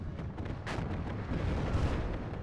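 Battlefield gunfire and artillery from a WARNO real-time strategy match, with tanks and BMP infantry fighting vehicles trading fire; a dense, continuous rumble of booms and bursts fills the whole stretch with no clear pauses.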